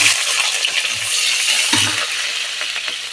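Sliced onions tumble into hot oil for chicken biryani, with a bright steady sizzle and a few clattering taps from the pan close by.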